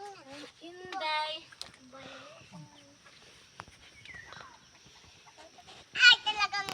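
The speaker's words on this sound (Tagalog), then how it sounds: "Ay, talagang manok na ito." Chickens cluck and squawk nearby, with a louder flurry of clucking near the end, over quiet background sounds.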